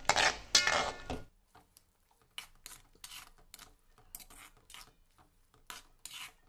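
Metal utensil scrapes and clinks in a pan as masala for prawn and pumpkin curry is stirred, a loud rasping burst at first, then short irregular scraping strokes alone.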